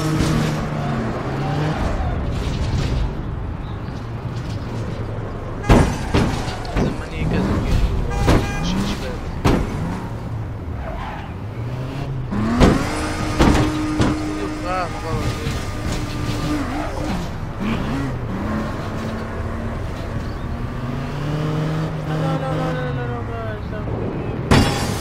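A car drives through the open-world game APB Reloaded, its engine droning continuously with occasional thumps and door-like slams, while people talk over it throughout.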